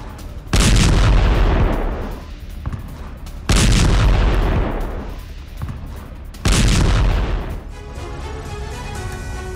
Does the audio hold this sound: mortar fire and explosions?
yes